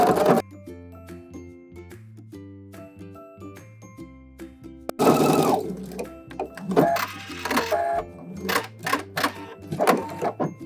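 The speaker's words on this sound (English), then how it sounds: "Time to sew up some darts." A sewing machine stitches darts on a shirt in quick bursts of rapid mechanical whirring, close and fairly loud, with pauses and a few clicks and taps between runs, no voices.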